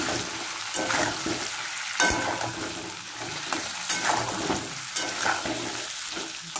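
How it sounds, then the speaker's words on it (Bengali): Potatoes fry in hot oil with turmeric and salt for chicken kasha, a steady close hiss with periodic bursts of crackle and stirring swells, no talking. "আলুগুলো একটু ভেজে নেব"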